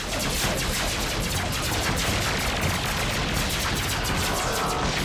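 Rapid, continuous weapons fire in an animated space battle, a dense barrage of energy or gun bursts with booms filling the whole stretch, loud and unbroken with no talking.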